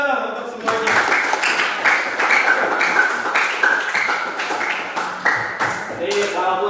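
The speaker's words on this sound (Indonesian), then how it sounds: "tepuk tangan dulu untuk semuanya." Classroom applause for all the students during a teacher-led lesson, a dense patter of many hands clapping at close range and sustained evenly throughout, with voices mixed in underneath.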